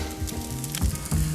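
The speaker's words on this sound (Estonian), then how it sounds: "Või noh, ütleme panni peal siis teda röstin siin, praen." Shimeji mushrooms and Brussels sprouts sizzle and fry in a pan on an EGG grill, a steady close crackling hiss with occasional louder spatters and low knocks.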